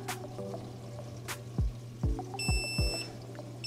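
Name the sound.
ICECAP auto top off alarm beeping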